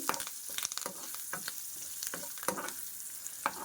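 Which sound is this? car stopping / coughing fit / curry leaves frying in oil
curry leaves frying in oil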